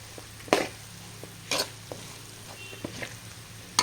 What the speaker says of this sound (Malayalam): മിക്സ് ചെയ്യണം.